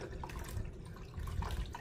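Water pours steadily into a countertop ice maker that also dispenses hot and cold water, a continuous close liquid splash and trickle with a few brief louder surges and no talking.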